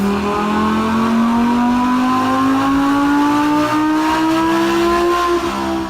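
A Lamborghini Huracan fitted with an F1 exhaust revs loudly and close up, its engine tone climbing smoothly and steadily through the lower rev range in one long continuous pull.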